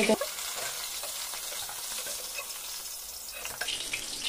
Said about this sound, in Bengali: এই বাকি মাছগুলোকেও ভেজে নিব